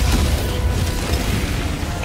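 Enemy cannon in the Helldivers video game firing, with dense low rumbling blasts and bursts running continuously through the whole stretch at steady, loud level, no talk heard.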